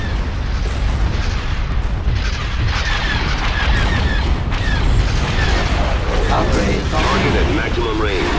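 Starship barrage firing in the space skirmish game Star Wars: Empire at War, heard as continuous booming artillery-like blasts and mechanical bursts throughout, with radio-style voices speaking over the battle.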